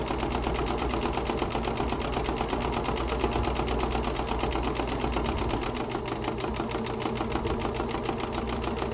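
A sewing machine runs steadily, stitching along a fabric tie strap on a tote bag, a fast even motor whir with dense needle ticking that holds for about nine seconds, close and uninterrupted.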